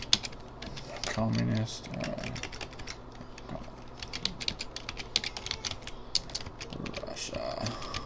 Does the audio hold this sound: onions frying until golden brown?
no